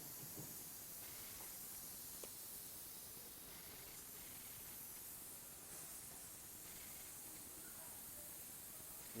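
Steam hisses inside an LG TrueSteam clothes dryer as a continuous, even, airy rush, faint but steady throughout, with no one talking.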